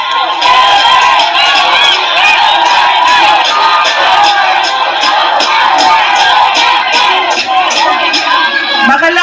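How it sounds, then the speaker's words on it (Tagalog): A large crowd at a political rally in Manila shouts and cheers continuously, a loud dense roar of many voices sustained throughout, with chanting blended into the din. "Ang sigaw ng mga tao ay Duterte."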